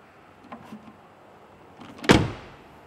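Door of a 2017 Ford Focus ST with a 2-litre diesel swung shut in a single sharp, close slam, preceded by a few soft handling clicks and rustles.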